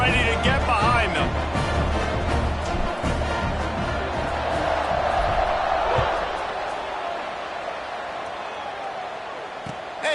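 A football stadium crowd at an NCAA game roars loud and sustained before a kickoff, with cheering swelling around mid-clip and a commentator talking over it throughout.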